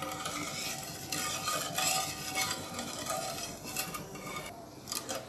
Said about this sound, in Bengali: আর এখন আমি এইটা বলক আসা পর্যন্ত ওয়েট করছি, আর ভালোভাবে নেড়ে চেড়ে দিচ্ছি।